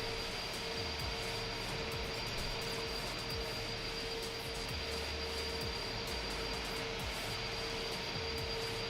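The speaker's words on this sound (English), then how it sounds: "This is the Airbus A300 of Unibuild's freighter with the FedEx livery" Steady, continuous jet engine drone of an Airbus A300 freighter in FedEx livery in the X-Plane 11 flight simulator, a constant cabin-like roar with a faint tonal whine and no talk.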